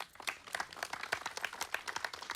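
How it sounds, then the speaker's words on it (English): An audience at a stage event claps after a dance performance, giving a quick, dense patter of hand claps at moderate distance that carries on steadily without a break. "Let's give her another round of applause."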